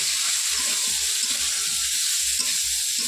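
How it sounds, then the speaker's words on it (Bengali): Vegetables frying in hot oil with black cumin, a steady loud sizzle and crackle filling the clip, with soft low scraping of stirring pulsing underneath at regular intervals. "এবার দেখুন সবজিগুলো দিয়ে দেবো, ভাজবো একটু।"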